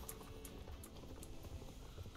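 Horse hooves clip-clop in a steady, brisk rhythm in the Star Stable Online riding game, faint and continuous with no talking.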